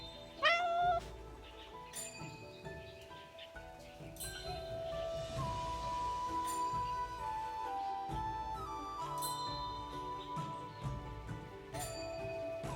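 A cat meows at a shrine in the game Love and Deepspace, a single short meow near the start over soft, steady game music.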